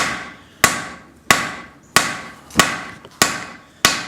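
A cross-peen hammer strikes hot steel on an anvil while spreading the cheek of a forged hatchet, with six loud, sharp metallic blows at a steady rhythm of about one every 0.6 seconds.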